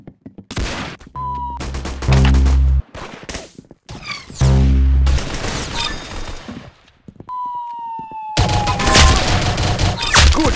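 Bursts of gunfire in the shooter game Arsenal, loud rapid volleys broken by short pauses, mixed with sharp impacts and ringing tones, no talk.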